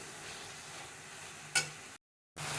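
Onion sautéing in a pan over medium-high heat, giving a steady close sizzle. One quick stirring scrape cuts through before a brief silence, then the sizzle resumes.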